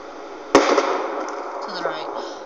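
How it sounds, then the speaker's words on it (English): A single loud gunshot cracks out as bottles are shot at in the video game Life Is Strange, followed by a lingering tail of game ambience. "We're gonna shoot all these bottles without wasting a single bullet."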